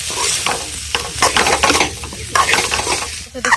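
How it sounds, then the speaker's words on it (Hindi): Raw papaya fries in a pan while a utensil stirs it steadily, a continuous loud sizzle broken by repeated scraping strokes against the metal, with no talking. "हम चला के पपीता की भी अच्छे से फ्राई कर लेते हैं"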